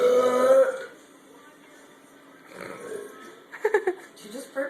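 A person burps during a banana and Sprite challenge, a low guttural belch at the start followed by quieter throaty, grunting sounds and a short burst of voiced noise near the end.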